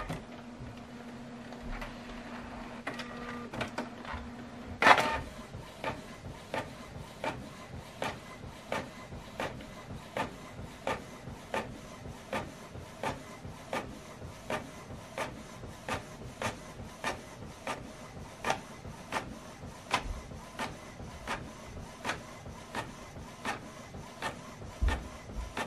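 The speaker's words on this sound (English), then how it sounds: "So now this document is going to print out from this printer." An office printer printing a double-sided document: a click and short whir, then a long run of regular mechanical clacks and rolling feed noise, evenly paced and close, with no talking.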